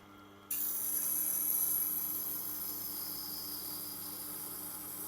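A knife is sharpened on a Blackstone wheel at its fine 1000-grit setting, a steady close hiss and rub that starts abruptly and holds at an even level, with no voices.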